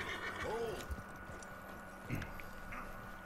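Horse neighing and whinnying in a video game, two short whinnies standing out over busy game sounds, with voices talking around them.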